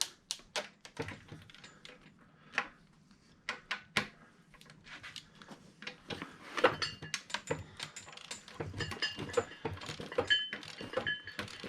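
Close, quiet metallic ticking and clinking as 11mm bolts are loosened and removed from a Honda BF150A outboard lower unit, a dense run of small taps and ratchet-like clicks with no talk.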